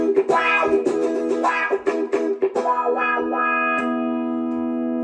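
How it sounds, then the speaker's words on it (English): Funky electric guitar played through a wah effect, a run of bright picked notes and chords with sweeping vowel-like tone shifts, ending on a sustained ringing chord with no talk. "With wah, which sounds pretty funky."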